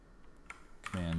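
A computer keyboard shortcut, Command E, pressed in Photoshop: a couple of soft, quick key clicks over quiet room tone, followed by a voice starting to speak.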